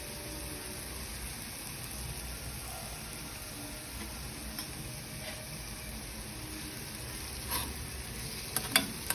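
Elephant yam pieces frying lightly with turmeric in a pan give off a steady, quiet sizzle, with a few faint stirring clicks toward the end.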